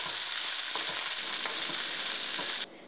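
Jalapeños sauté in a hot pan with a steady, bright sizzle and a few soft stirring taps, close up and without talk, before the sizzle abruptly drops away at the end.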